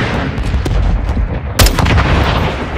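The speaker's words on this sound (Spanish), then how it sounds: "Nos dispara un RPG" RPG fire in the shooter Call of Duty Modern Warfare 2: a sharp loud blast about midway cuts through a constant rumble of battle noise, close and heavy, with no speech.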